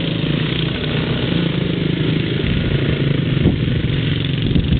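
Motorcycle engine running close by on a cold winter day, a loud continuous rough throbbing drone held at steady revs with no pauses.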